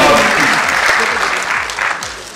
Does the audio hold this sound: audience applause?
yes